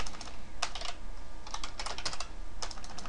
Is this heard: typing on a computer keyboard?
yes